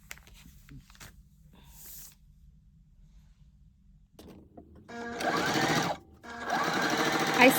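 Sewing machine stitching a red-thread seam on a Christmas stocking, starting after a quiet stretch and running in loud steady bursts with a short pause between them, close to the microphone.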